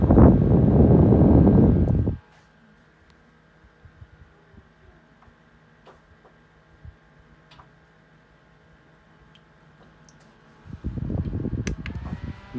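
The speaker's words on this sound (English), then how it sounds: "here's this fan on low." A newly bought electric fan runs on its low setting, a faint steady hum and whir with occasional soft ticks, between louder bursts of noise at the start and end, with no talking.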